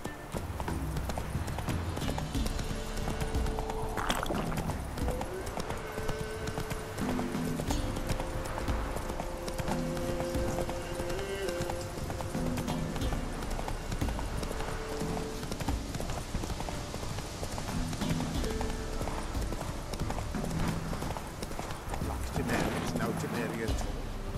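Roach, a horse in The Witcher 3, gallops with steady, rhythmic clip-clop hoofbeats that continue throughout, mixed with game music and spoken voices.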